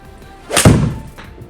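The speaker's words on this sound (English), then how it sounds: "So go ahead and hit a couple shots here with this, please." A golf ball is struck with a 2021 Callaway Apex MB 7 iron: one sharp, close impact crack followed by a brief fading whoosh, otherwise quiet.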